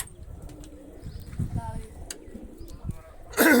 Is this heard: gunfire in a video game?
no